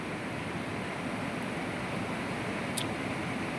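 A wide river swollen and deep after rain, its water rushing in a steady, loud, broadband roar with no pauses and no voices.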